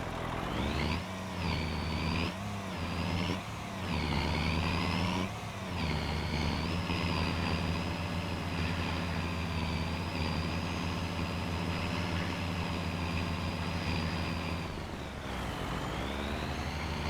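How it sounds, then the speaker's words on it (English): A loud modded truck engine in the farming video game Farming Simulator 25 drones steadily at close range, with several rising revs early on before it settles into a sustained heavy hum. "I don't really like this truck mod because the engine is insanely loud."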